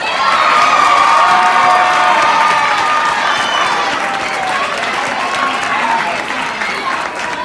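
A crowd applauds and cheers for an award winner, with dense clapping and some shouts and whoops, loud at first and easing slightly while staying sustained.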